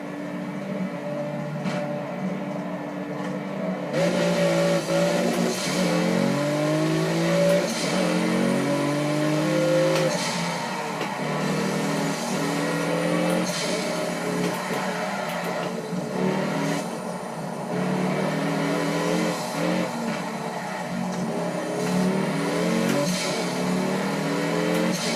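A car leaves the pits onto the Bugatti circuit at Le Mans for a warm-up lap, its engine loud and continuous, rising and falling as it revs through the gears for the whole stretch.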